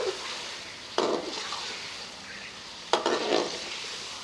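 Chicken and cauliflower florets frying in masala in a pan, a steady sizzle broken by two loud stirring scrapes, each followed by a burst of sizzling, with no talk.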